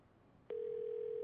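A pay phone in Yakuza 0 gives a steady telephone dial tone that starts abruptly after a soft click and holds at an even level, with no voices.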